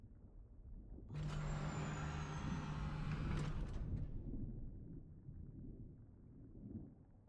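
Sandstorm in Dune Awakening, a sudden roaring wind surge with a whistling high tone that rumbles for a few seconds and then cuts back to a low muffled drone, with no voices.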